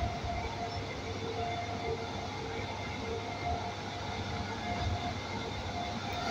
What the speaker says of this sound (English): Trains blowing and throwing us around like crazy.